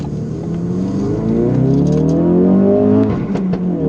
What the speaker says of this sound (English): first experience of driving this 380 brake horsepower mount tune Focus RS.